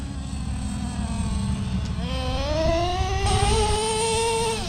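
A Traxxas T-Maxx 3.3 nitro RC monster truck engine runs continuously during break-in, a high buzzing whine that holds steady, then rises in pitch twice as the throttle opens.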